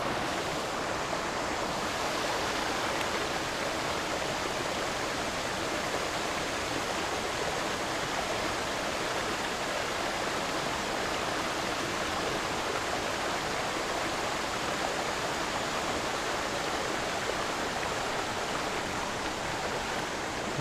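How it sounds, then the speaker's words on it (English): Steady rushing river water flowing through an inlet under a bridge, a constant broadband roar close by with no talk. "There's a bridge over there and it's all this water is coming through the inlet and right out into here."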